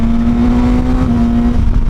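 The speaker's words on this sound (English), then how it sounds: "The smoothness of the engine along with that throttle mapping" A Suzuki GSX-S 1000 motorcycle's engine drones steadily at a constant pitch while riding on a highway, loud and close with wind rush underneath.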